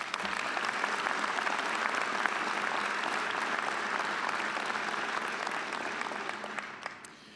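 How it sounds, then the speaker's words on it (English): Sustained applause from a large audience at a police academy graduation ceremony, honoring the new graduates; thick and even, it continues for several seconds before tapering off at the end. "Let's give these young men and women another hand of applause."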